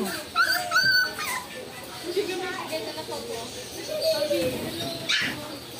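A toy poodle puppy in a pet store gives high, thin whimpers and yips, several short cries scattered through the moment, close by, while people talk over them.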